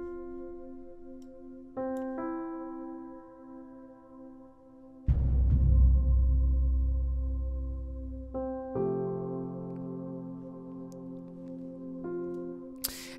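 Deep percussion hits from a film score, a heavy boom landing mid-passage and swelling under sustained orchestral tones, with lighter thuds at the start and near the end.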